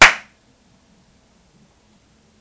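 A single sharp hand clap close by sets off a homemade clap-activated circuit, cracking loudly and then dying into near silence with only a faint low hum afterward.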